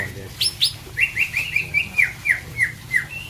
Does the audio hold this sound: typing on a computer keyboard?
no